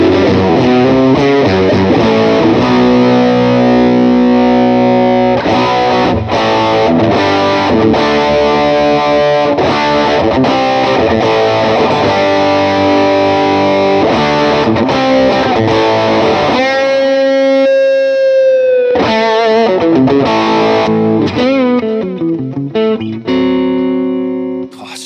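Gibson Explorer electric guitar driven through a Rook Audio Solar Boost pedal, with the range control cranked fully up, plays loud, thick distorted riffs with a boomy, loose low end and ringing sustained chords, alone with no voices.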